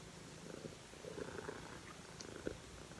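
A cat purrs very close but quietly, a soft continuous rumbling drone with faint rhythmic pulses and small rustles, with no talk over it.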